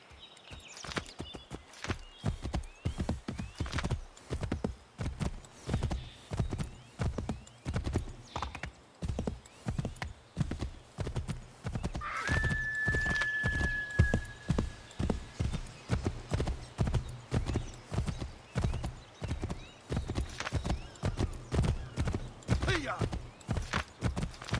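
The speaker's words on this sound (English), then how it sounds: "It's an assassin horse." A horse in Assassin's Creed III clip-clops along at a steady walking rhythm, hooves close and clear throughout, with a brief whinny partway through and a voice speaking over the hoofbeats.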